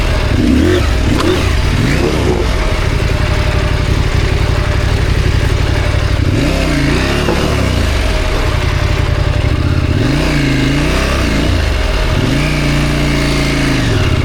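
KTM 890 Adventure R motorcycle charging along a sandy trail, its engine loud and close throughout, revving up and down repeatedly with rising and falling pitch under constant wind and gravel noise.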